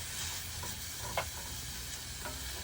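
Food sizzles as it is broken up and browned in a pan with a little extra butter: a steady close frying hiss with a couple of brief utensil scrapes.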